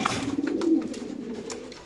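Soft, low cooing of racing pigeons repeats through the clip, close by at a pigeon farm, with faint rustling and other bird noises mixed in.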